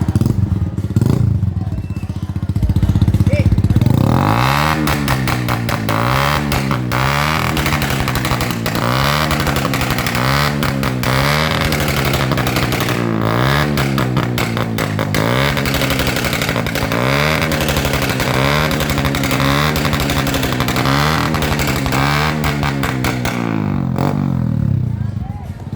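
A Suzuki Smash 115 motorcycle with a loud aftermarket exhaust revs repeatedly in rising and falling bursts at a loudest-pipe competition, a close and harsh engine roar with crowd voices and talk underneath.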